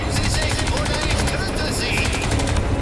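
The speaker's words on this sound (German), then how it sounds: "scheiß Hubschrauber" Helicopter combat in the video game Crysis 3, a dense roar of rotor and engine noise with rapid gunfire bursts layered over it, loud and continuous throughout.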